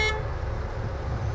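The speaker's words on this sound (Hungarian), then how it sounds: "Férfias a duda?" A car horn blares in one loud, steady, sustained honk, close by and alone, holding an even tone throughout.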